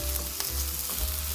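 Cabbage being stir-fried and mixed in a pan, a dense, loud, continuous sizzle with a brief scrape of stirring, no voices.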